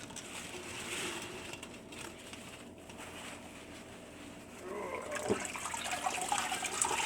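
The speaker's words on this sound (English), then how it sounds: "probably the only downside of this method is trying to drain the bag, because there is quite a bit of liquid in here" Liquid beer wort for a Berliner Weisse sour beer drains and splashes from a lifted brew bag, a steady trickling wash that swells into louder, closer pouring near the end.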